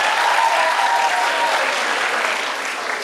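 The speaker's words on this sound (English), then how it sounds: "Let's give them a clap too." Crowd applause at a high school revue, a thick continuous wash of clapping from a large audience that holds loud and even before easing slightly toward the end, with a faint voice briefly audible early on.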